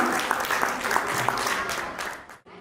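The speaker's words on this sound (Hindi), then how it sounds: "एक बार जोरदार तालियों से स्वागत करेंगे माननीय अतिथि जी का" Audience at an Arya Samaj Mandir gathering claps warmly to welcome a guest, a dense burst of applause that tapers off near the end, with a voice speaking over it.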